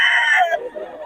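A young stag rooster, a yellow-legged hatch gamecock, lets out one loud, close crow that falls in pitch and cuts off after about half a second, followed by a faint tail.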